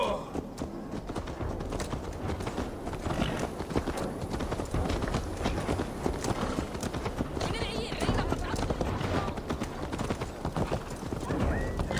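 Horse hooves clip-clop steadily on the ground in Assassin's Creed Valhalla, close and continuous, with a short whinny at one point. Game dialogue and voices play throughout.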